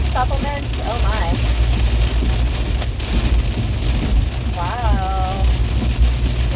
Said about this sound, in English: it's raining hard in my area.